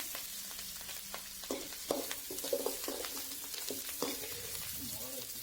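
Onions, dried red chillies and fresh curry leaves sauté in a pan over a firewood stove, crackling and popping steadily while a spatula scrapes through them in repeated strokes, close up.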